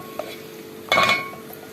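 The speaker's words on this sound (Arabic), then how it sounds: "بصلايه متقطعه بقى وهنشوحها" Chopped onion with salt dropped into a pan for a traditional Egyptian dish, giving a short clatter and sizzle of food and utensil against metal, near and fairly loud, with a faint clink just before.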